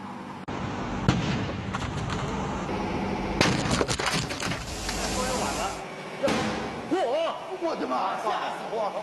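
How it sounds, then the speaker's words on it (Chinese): A worn tire bursts under high air pressure in a test setting, a sudden loud blast followed by rushing hiss and clatter, then startled exclaiming voices nearby. "现场突然一声巨响，磨损后的轮胎突然发生了爆炸"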